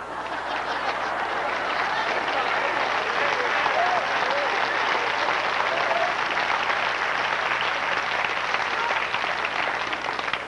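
A large audience at a 1994 camp meeting claps steadily and loudly, a dense wash of applause that holds at even strength throughout with no speech on top.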